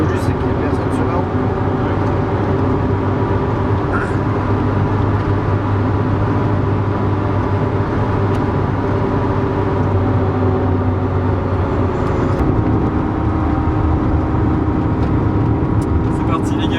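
A Renault Super 5 running flat out on the road, a steady, loud engine drone and road roar from inside the car that holds without letup, with voices talking over it.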